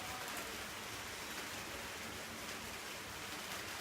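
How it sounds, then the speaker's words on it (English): Steady rain in Montego Bay, Jamaica falls as a dense, even hiss with no pauses, moderately quiet and close, with no voices. "It's raining."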